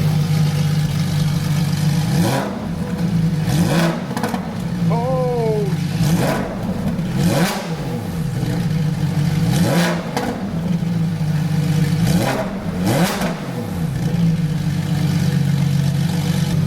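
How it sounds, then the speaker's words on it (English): A Porsche GT3 RS with a loud Z pipe exhaust revs repeatedly, sharp blips rising and falling over a loud idle, with a brief exclamation from someone partway through. "Rev it."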